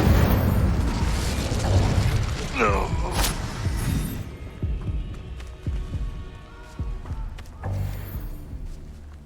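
Spell-casting blasts and impacts in the Hogwarts Legacy video game, several booming bursts and throbbing hits in the first half, then scattered thuds and a final crackling burst, with a voice calling out spell names.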